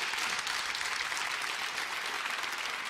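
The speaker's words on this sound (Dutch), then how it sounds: "Applaus" Dense, steady audience applause fills a televised Dutch political debate hall, broad and continuous with no gaps and no voices over it.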